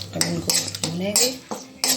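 Grated ginger and garlic are stirred in a pan with a metal spoon, giving several sharp clinks and scrapes against the pan. A voice speaks between them.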